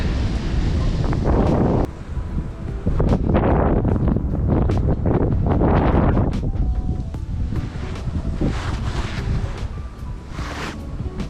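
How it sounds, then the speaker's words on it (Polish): Strong wind blows over a lake, roaring and buffeting the microphone with heavy, continuous rumbling gusts that stay loud throughout. "Faktycznie wieje dzisiaj bardzo mocno"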